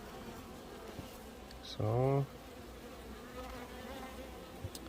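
A single honeybee buzzes loudly past at close range for about half a second beside an opened Danish trough hive, over faint background hum; a voice speaks briefly.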